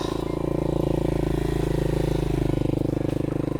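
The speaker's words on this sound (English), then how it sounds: "It's actually idling, who knew?" A 150cc dirt bike engine idles steadily with a fast, even chugging pulse and a faint metallic clatter, loud and close throughout.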